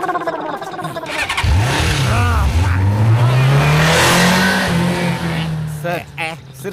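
A car engine starts up and revs, then pulls away with a rising, steady drone that holds loud and close; people talk over it throughout.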